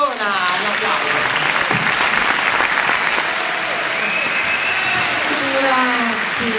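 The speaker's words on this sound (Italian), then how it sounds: "Un applauso!" An audience at a film preview in Treviso breaks into loud, continuous applause, with a voice speaking over the clapping.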